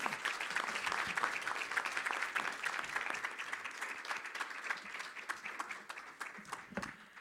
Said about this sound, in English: Everyone, a round of applause for Minister Harry Bains